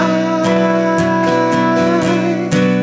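Strummed guitar chords from the bridge of a song, in a steady rhythm, loud and close, with regular strokes roughly every half second; no singing stands out.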